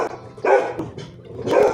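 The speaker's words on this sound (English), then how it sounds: "You don't need to bark." A dog barks twice nearby, two loud, separate woofs with a brief pause between them.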